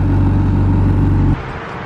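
A turbocharged Honda D15 single-cam engine roars loudly on a dyno at high revs with a steady, dense drone, then cuts off abruptly into a lower, quieter rumble.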